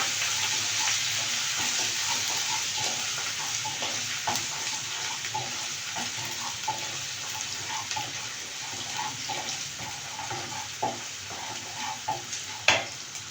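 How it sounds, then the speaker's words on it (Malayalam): Green chillies and ginger are sautéed together in a pan for tomato pickle. A steady, moderate sizzle runs throughout, dotted with small clicks from stirring. "ഇതെല്ലാം കൂടെ ഒന്ന് വഴറ്റുക"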